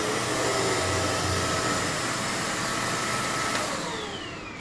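A household vacuum cleaner runs on a Foxtheon iGo3600 portable power station, a loud, steady whooshing motor roar that holds for several seconds before starting to wind down at the end.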